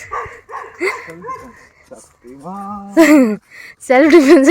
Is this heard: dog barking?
yes